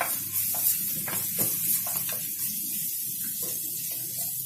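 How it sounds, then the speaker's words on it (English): Grated ginger and garlic dropped into hot olive oil for a vegetable soup, a close hissing sizzle with a few soft clicks and scrapes at the start, settling into a steady quieter crackle. "To this olive oil, we're first going to add our ginger and garlic"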